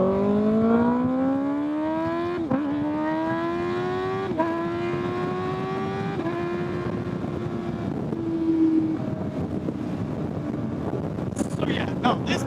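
A 2025 Kawasaki ZX6R motorcycle engine revs up and down through several gear changes on an evening ride, rising pitch sweeps repeating every couple of seconds under steady wind rush, then settling toward an easier cruise.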